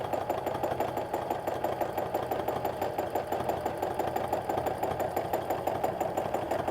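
A sewing machine runs continuously during free motion quilting of a loopy meander stencil pattern, giving a rapid, even, close mechanical chatter at a moderate level.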